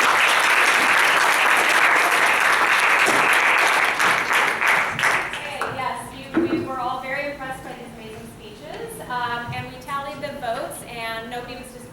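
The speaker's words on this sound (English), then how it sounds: "one last round of applause for all of you" Loud, dense applause from a large audience at an awards ceremony, a sustained roar of clapping for about five seconds that thins and fades as a speaker's voice takes over.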